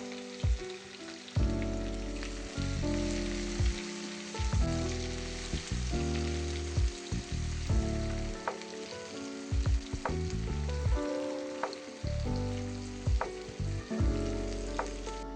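Chopped onion hits hot oil with cinnamon, cloves and black peppercorns and sizzles loudly and steadily, with repeated spatula scrapes and stirring clatters through the frying.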